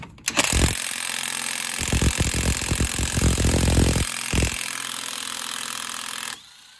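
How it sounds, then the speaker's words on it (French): A battery-powered impact tool with a 35 mm socket unscrews a large nut during a car universal-joint replacement. A steady whirring runs throughout, with a stretch of loud, rapid hammering rattles in the middle, close up and with no talk. "Et c'est une douille de 35 qu'il faut pour dévisser cet écrou là."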